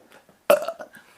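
A man belches once, a loud, close, rough burp lasting about half a second with a short tail, on its own with no talk over it.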